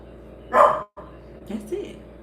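A dog barks once loudly and close, a short burst followed by a quieter second bark or whine, heard while she reacts to wind and leaves.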